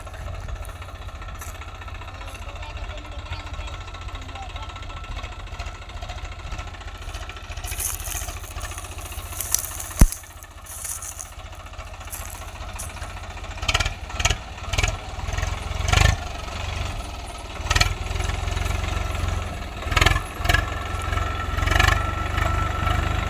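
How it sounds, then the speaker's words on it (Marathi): A tractor engine runs steadily on a farm field after soil levelling, a low continuous rumble that later grows rougher with rhythmic surges as it is revved and driven, close and fairly loud throughout. "ट्रॅक्टरला शेताच्या मधोमध नेऊन उभा कर."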